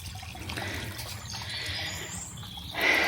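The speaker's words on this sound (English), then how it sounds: "a little babbling brook. I love it." Gentle trickling water, like a small stream, flows steadily and fairly quietly, with a brief brighter splash near the end.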